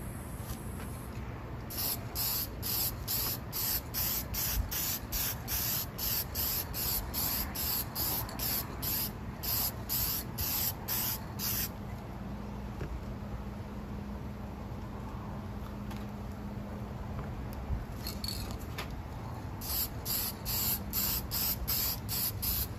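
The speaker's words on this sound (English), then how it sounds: "We'll spray a clear coat on it to protect it," A can of clear coat spray hisses steadily onto a cleaned seashell, a long continuous aerosol spray broken by a few short pauses, close and even in level with no talking.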